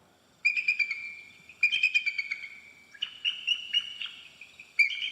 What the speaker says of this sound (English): Here's the sound of the bald eagle.